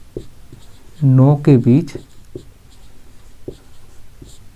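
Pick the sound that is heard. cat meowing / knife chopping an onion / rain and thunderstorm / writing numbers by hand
writing numbers by hand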